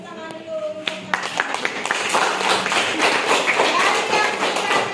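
Schoolchildren in a classroom break into clapping for a classmate, the sound starting with a few scattered claps and swelling into steady, close applause, with voices heard near the start.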